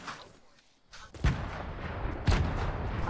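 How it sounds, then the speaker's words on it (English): Gunshots ring out in a squad-based video game shooter, with a sharp near shot at the one-second mark and another louder burst shortly after, sounding against a steady noisy background of distant firing. "I hear shooting."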